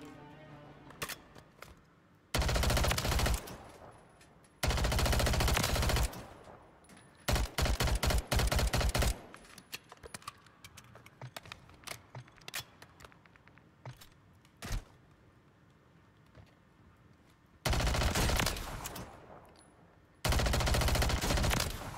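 Gunfire in a video game comes in repeated loud bursts of rapid automatic shots separated by quieter gaps, with some scattered single shots between them.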